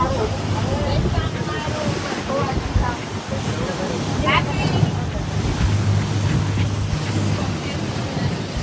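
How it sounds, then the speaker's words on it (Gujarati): A speedboat runs across open sea under strong wind, with a steady roar of hull and water and gusty wind buffeting the microphone throughout, and voices talk over it. "સ્પીડ બોટમાં ભાઈ પવન જોરદાર આવે છે"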